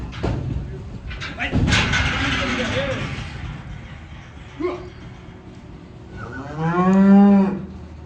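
Cattle on a farm moo several times, the clearest a loud drawn-out low moo near the end, with a shorter call earlier, mixed with clanking and someone talking in between.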